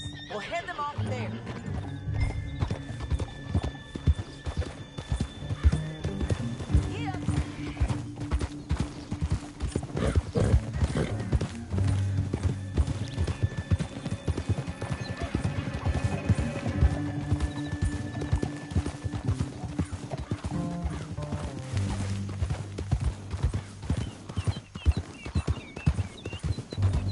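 Horse hooves clop in a rapid, continuous galloping rhythm in the video game Red Dead Redemption 2, with occasional whinnies and people talking over the steady hoofbeats.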